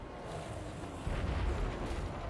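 An apocalypse cannon firing in the video game Total War Warhammer 3, a deep, rumbling blast that swells midway and rolls on as a low, distant boom beneath battle noise.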